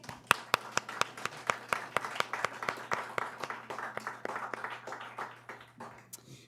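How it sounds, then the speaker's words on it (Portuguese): Audience applause at a theatre lecture, a fairly quiet spread of claps with a few sharp individual claps standing out early, growing into a fuller patter before fading away near the end. "Palmas para eles."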